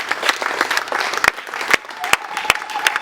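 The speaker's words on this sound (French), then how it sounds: "je veux vous demander d'applaudir frénétiquement cet homme de Dieu" An audience at a retirement celebration for a church apostle applauds frenetically, a dense stretch of clapping with sharp individual claps standing out.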